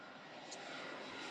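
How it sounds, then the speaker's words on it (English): A commercial airplane's engine presented as a sound quiz item, a steady broad jet roar held evenly throughout, moderately loud and alone. "That's a commercial plane."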